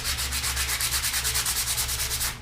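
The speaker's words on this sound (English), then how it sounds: "Just clean it up a little bit with some sandpaper here." Wooden Ishi-style bow being smoothed with sandpaper, a rapid regular back-and-forth rasp of about eight strokes per second, close and steady over a low hum, with no speech.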